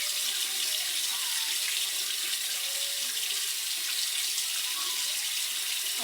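Tap water runs steadily into a sink during face washing, a constant bright splashing rush that stays close and even the whole time with no voices.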